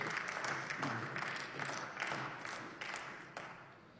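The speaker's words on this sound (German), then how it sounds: "Applaus" Applause in a state parliament chamber during a budget debate, a faint, scattered patter of clapping from many hands that thins toward the end.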